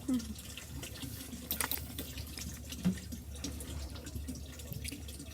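Water runs steadily from a spring spout in a soft, continuous trickle, with faint drips and a quiet voice nearby.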